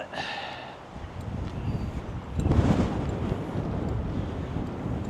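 Wind gusting across an open golf course at Tiburon, a steady broadband rush and buffet on the microphone that swells louder around the middle and stays strong to the end, with no voices.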